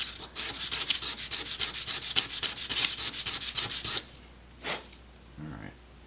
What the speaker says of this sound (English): I'm not going to bother sanding the other sides like that